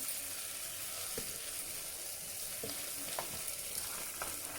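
Beans and potato pieces frying in a pressure cooker, a steady soft sizzle with a few faint stirring knocks, close but fairly quiet.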